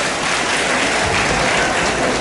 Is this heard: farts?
no